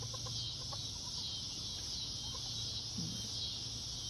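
Chickens cluck softly and intermittently in a farmyard alongside a rooster, with a brief low fowl call near the end, all over a steady bed of insect and outdoor ambience.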